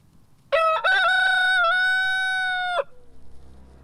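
A rooster crows once, loud and close, in a long sustained cock-a-doodle-doo over soft background noise.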